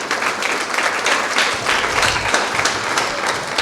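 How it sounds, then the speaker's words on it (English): Audience at a motivational talk applauding steadily, a dense, sustained wash of clapping from a large crowd that holds even throughout, with no voices rising above it. "A big round of applause to the great God who has made this possible for all of us"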